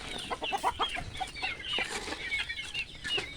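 Chickens cluck steadily in a coop as they peck at scattered feed, with many overlapping soft calls and chirps close by and no talking.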